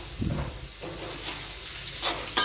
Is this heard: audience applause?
no